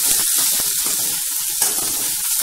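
Onions sautéing in a pan after salt has been added, giving a steady, close sizzle with brief stirring scrapes throughout, no voices.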